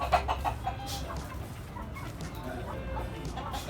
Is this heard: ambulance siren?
no